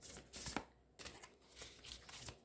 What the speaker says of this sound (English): This one is a little bit hard to shuffle because the cards are really thick.